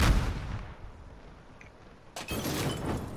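Gunfire in Call of Duty Warzone: a sharp burst at the start, a quieter lull, then another heavy burst of shots with rumbling echo, heard at moderate distance.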